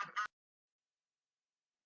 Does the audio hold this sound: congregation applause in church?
no